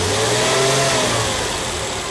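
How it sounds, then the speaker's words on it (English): A TVR 2500M engine revs under a couple of throttle blips, a steady close, loud mid-pitched drone that rises and eases with no talking. "let me give it a couple throttles"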